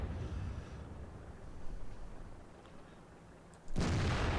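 In World of Tanks, a T28 American tank destroyer's cannon fires one sudden, heavy boom near the end, breaking a quiet, rumbling engine background and trailing off into a sustained roar.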